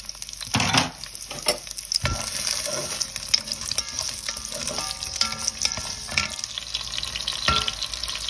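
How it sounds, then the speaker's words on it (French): Onions hitting a hot pan for a beef, vegetable and rice dish, a close, bright continuous frying hiss with scattered clicks and scrapes of stirring, steady throughout with no talk. "Je mets les oignons."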